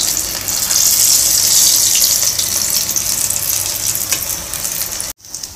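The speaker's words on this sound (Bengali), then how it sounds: "এইভাবে করে আমি সব কয়টা লাল লাল করে ফ্রাই করে নেব" Vegetable chops deep-fry in hot oil with a loud, steady bubbling hiss that runs close up for about five seconds before cutting off abruptly.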